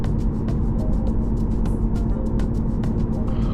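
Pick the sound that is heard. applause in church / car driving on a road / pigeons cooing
car driving on a road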